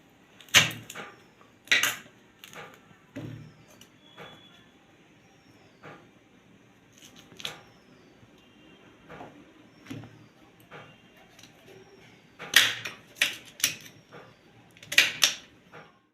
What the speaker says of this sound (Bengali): এবারে ছোট ছোট করে টুকরো টুকরো করে কেটে নেব।